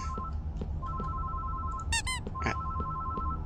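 Two quick rubbery squeaks from a squeezed squeaky toy zebra in the video game Closing Time, close and sharp, followed by a softer third squeak, over a steady electronic ringing tone.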